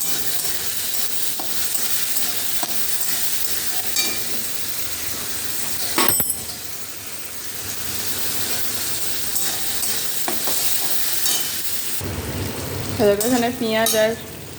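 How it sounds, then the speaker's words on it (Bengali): Mutton keema coated in oil and turmeric fries in a pan with a steady, loud sizzle and hiss throughout, broken by a few stirring scrapes and clatters, then a sharper burst of sizzling near the end. "আগে এটা একটু ভেজে নিই।"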